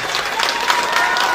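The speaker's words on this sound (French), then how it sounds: "Et je tiens à ce que l'on les applaudisse et qu'on les félicite chaleureusement." An audience applauds at a school prize-giving ceremony for a lycée festival, a continuous, close wash of many hands clapping with no gaps.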